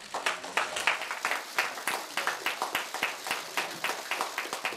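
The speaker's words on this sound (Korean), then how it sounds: "힘찬 박수 부탁드립니다" An audience at a political party welcome ceremony claps steadily, a dense run of sharp, fairly loud claps keeping up an even rhythm throughout, with no voices over it.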